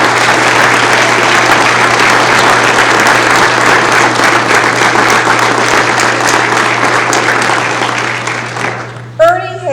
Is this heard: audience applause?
yes